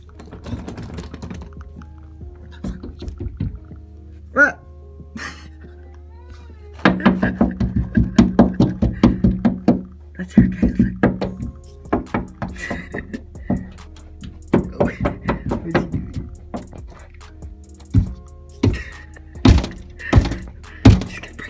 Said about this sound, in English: You're gonna break a door, Scooty!